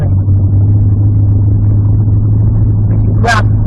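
A classic car's engine running on the road during lockdown, a loud steady low rumble with a constant droning hum, joined near the end by a brief higher-pitched squeal or chirp.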